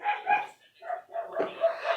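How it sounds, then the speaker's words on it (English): Several wild dogs bark in repeated short bursts at a moderate distance, a loose irregular volley of yips and barks with brief gaps, no speech over them. "those are wild dogs you're hearing"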